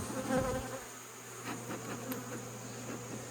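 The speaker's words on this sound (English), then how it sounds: "I was blowing a bee off my finger" Honeybees buzz steadily during a hive check with a rescue beekeeping group, a continuous insect drone close by with a brief louder burst near the start and no talk.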